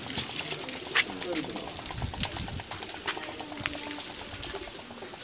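Breeder pigeons coo and splash while bathing in water, with soft cooing and light sloshing close by and someone talking over them throughout.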